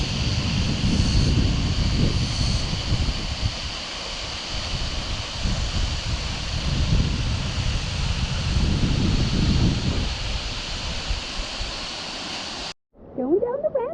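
An airplane passes overhead above a river cove in McCurtain County, a steady broad drone blended with wind and rushing water that holds for about thirteen seconds and then cuts off abruptly.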